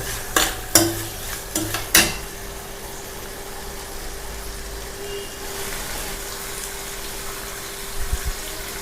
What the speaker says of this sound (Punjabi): ਆਰਬੀ ਆਪਣੀ ਭੁੰਨ ਹੋ ਰਹੀ ਹੈ